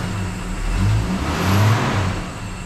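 A 1978 Mercury Z-7 outboard engine runs and revs under throttle, a loud, close mid-pitched motor drone swelling twice to higher revs before easing off, with no talk over it.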